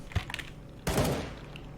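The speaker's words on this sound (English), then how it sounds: "The shots ring out." Gunshots in a Counter-Strike match: a few quick faint clicks, then a sharp loud burst of shots that trails off into echo.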